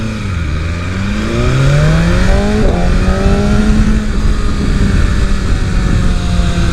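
A 2023 BMW S 1000 RR sportbike engine revs up on the street, its high, buzzy inline-four pitch climbing and falling in several rising sweeps, loud and close, with no talk over it.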